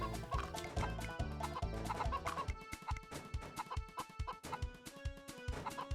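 Repeated chicken clucks in the video game Mort the Chicken, rhythmic and close over a busy musical game soundtrack, no speech.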